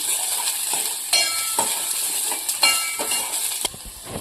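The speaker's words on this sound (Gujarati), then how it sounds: "હવે આપણે આની અંદર ગાજર નાખીશું ગાજરને સાંકળી દઈશું" Onion and carrots sautéing in a pan for sweet corn soup, a steady close sizzle with occasional stirring scrapes and clicks, no talking.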